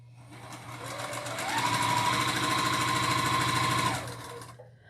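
Sewing machine stitching quilt strip sets, a fast steady mechanical whir that speeds up to a sustained run with a rising motor whine, then stops, close and loud.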